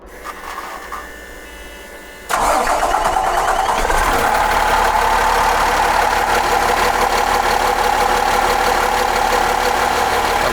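A Cummins 450 diesel RV engine cranks and fires up at about two seconds, then settles into a loud, steady idle with a constant rumble and clatter that runs to the end.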